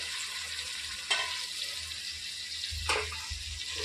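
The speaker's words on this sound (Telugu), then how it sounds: "ఇందులోనికి 1 టమాటా అండి, కట్ చేసి పెట్టుకునే టమాటా వేసేసుకొని" Chopped tomato is stirred into oily biryani masala with ginger-garlic paste, producing a continuous close frying hiss with two brief spoon scrapes, and no speech.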